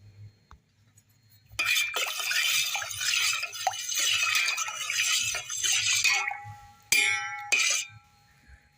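A metal spoon stirring salt and asafoetida into water in a bowl for dahi bhalle, a few seconds of continuous swishing and scraping with small clinks against the container, then brief stirs and silence.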